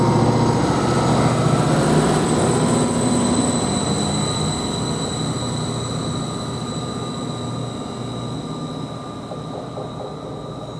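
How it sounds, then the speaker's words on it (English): A passenger train on the 1509 service toward Felixstowe pulls out of Derby Road station, a steady broadband rumble with faint high squealing tones that slowly fades as it draws away. "Now the 1509 service towards Felixstowe is just now departing."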